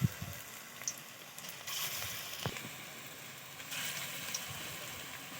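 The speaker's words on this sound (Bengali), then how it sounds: "এইভাবে হাতে করে বড়াগুলো কড়ায় দিয়ে দেবো।" Bottle gourd leaf fritters drop into hot white oil in a kadai and fry with a moderate, steady sizzle, punctuated by a few soft knocks and bubbling surges, close by and without speech.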